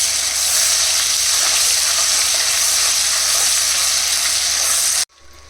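Ginger garlic paste fries in a pan for chicken kurma, a loud, dense, continuous sizzle and hiss held close for several seconds before cutting off abruptly.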